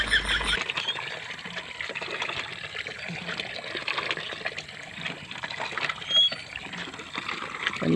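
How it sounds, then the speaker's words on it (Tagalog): Water pours steadily into a bucket being filled while fetching water, a continuous splashing trickle and gush close to the microphone, with no speech. "Ay, malapit na mapuno ang baldi."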